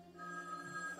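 A telephone rings quietly with a sustained electronic trill tone that holds for about a second, alone without any voices.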